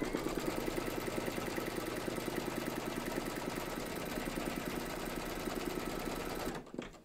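An embroidery machine stitches the second round on a towel topper, a steady rapid mechanical chatter that runs evenly for several seconds and then stops abruptly near the end, with no voices.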